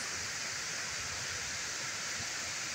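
A turquoise waterfall in Laotian tropical forest pours steadily, its even hiss and rush heard softly from some distance with no other sounds.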